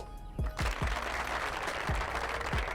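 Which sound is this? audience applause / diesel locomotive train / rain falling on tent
audience applause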